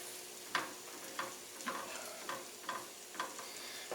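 A steak quesadilla fries in a hot pan, giving a steady soft sizzle broken by about seven brief crackling pops at an uneven pace, fairly quiet and close, with no voices.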